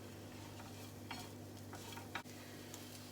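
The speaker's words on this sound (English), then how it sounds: "just mix it for 1 or 2 minutes. Until everything is mixed" Chicken patty filling is stirred in a pan, a soft, low sizzle with light scraping strokes and an occasional clink of the spoon against the pan.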